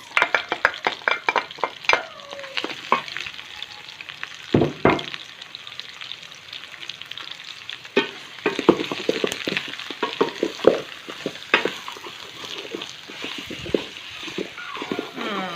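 Garlic and bulb onions sizzle in a hot pan for a caramelized lemongrass chicken dish. A steady frying hiss runs under repeated clatter from stirring and scraping utensils, loud and close, with no one speaking.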